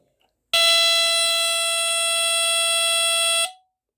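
A GE Home Sentry 8203-001 smoke detector alarm blares a continuous, very high-pitched electronic tone for about three seconds, loud and close, then cuts off abruptly.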